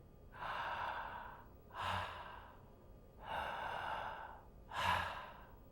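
A puppeteer's voice imitates breathing with four slow, airy breaths in an even rhythm, alternating longer and shorter puffs, close and clear with no talking.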